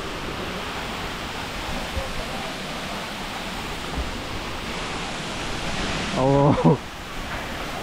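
Water drops down Sipi Falls in Uganda, giving a constant loud roar of falling water. A brief voice rises over the roar near the end.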